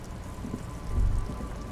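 Rain in the video game Disco Elysium, a soft steady patter of drops with a low rumbling swell near the middle, constant and moderately quiet with no voices.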